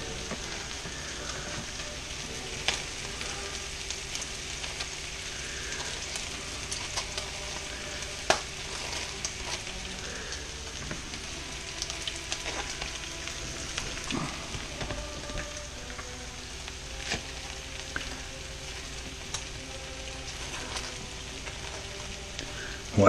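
Potatoes fry in butter with a constant, even crackling sizzle that holds steady throughout, dotted with small pops and a few faint clinks, with no voices.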